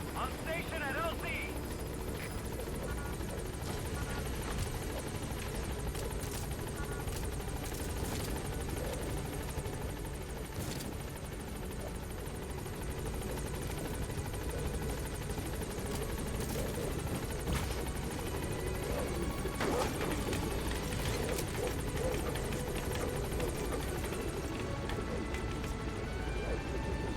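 The Pequod helicopter in Metal Gear Solid V: The Phantom Pain approaches a landing zone, its rotor noise a constant loud roar throughout, with voices speaking underneath.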